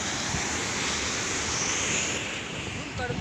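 Broad, steady roar of Sahasrakund waterfall in Umarkhed taluka, Yavatmal district, Maharashtra, filling the whole clip at an even, loud level with no breaks.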